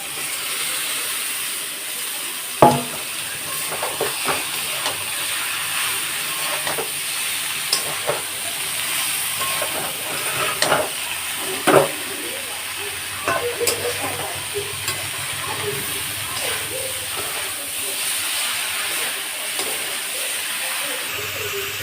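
Jackfruit pieces drop into a hot pan and then fry with a steady sizzle, broken by scraping stir strokes and occasional sharp knocks of the utensil against the pan.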